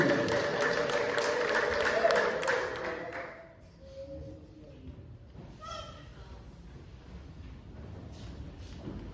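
A church congregation claps and ululates together in a dense burst of applause that fades after a few seconds, leaving quieter scattered sounds and a voice speaking.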